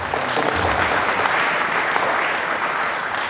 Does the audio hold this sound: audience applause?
yes